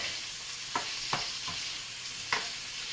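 Shrimp seasoned with garlic powder, black pepper and salt are stirred in a hot pan, giving a soft, steady sizzle broken by a few sharp utensil taps against the pan, with no talking.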